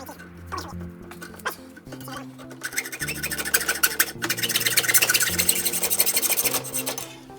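A basic hacksaw rasps back and forth through metal during an MGB GT Sebring restoration, a series of scraping strokes that start sparse and grow faster and louder toward the end, close up and without talk.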